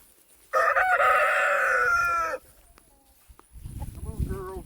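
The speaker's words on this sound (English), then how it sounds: "I'm going to let my 3 hens out" A loud rooster-like crow near the start, then quieter clucks and squawks from three backyard hens being let out of their coop, close by, with some faint rustling in between.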